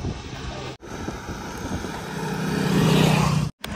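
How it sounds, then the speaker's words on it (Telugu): Strong, gusty wind roars across the microphone in light drizzle during a long roadside walk, a steady broadband rush that swells louder toward the end with brief cutouts and no talking. "గాలి మాత్రం సూపర్ వస్తుంది"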